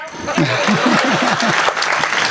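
Audience at a Hindi kavi sammelan poetry recital clapping, a dense steady applause with a few distinct hand claps standing out near the front of the crowd.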